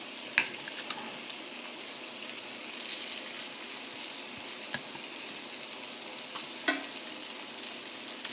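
Food sizzles and crackles steadily in a hot pan, with a constant bright hiss and a few sharper pops scattered throughout.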